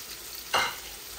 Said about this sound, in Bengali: এখানে জিরা মুড়ি আর কালো জিরা আছে দিচ্ছি এই ফোড়নের মধ্যে।